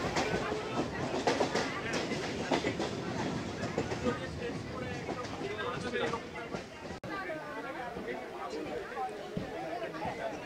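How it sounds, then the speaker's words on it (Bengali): A Kolkata local train rattles across a rail bridge above Dum Dum Road, its wheels clattering steadily while a crowd of passengers chatters nearby inside the carriage. "রেল ব্রিজ ক্রস করছি, রেল ব্রিজের নিচ দিয়ে গেছে দমদম রোড"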